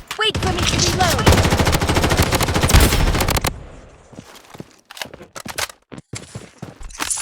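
Gunfire in a video game comes as a dense, loud rapid-fire burst lasting several seconds, then stops and gives way to scattered shots and clicks.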